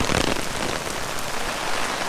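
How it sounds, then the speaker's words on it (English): Heavy rain pours in a dense, loud, continuous hiss of drops hitting surfaces, steady throughout the short stretch with no voices. "It's raining cats and dogs."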